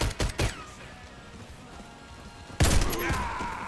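Automatic weapon fire in the online shooter Warface from a newly added gun: a few rapid bursts at the start, a lull, then a louder, sustained volley of close gunshots.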